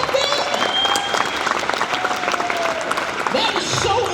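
Steady applause from an audience fills the clip, a dense continuous patter of clapping with some voices mixed in.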